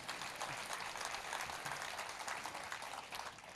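Audience members at a Hindi poetry gathering (kavi sammelan) in Mumbai clap together in a dense, continuous round of applause, fairly faint and heard from a distance, with no talking over it.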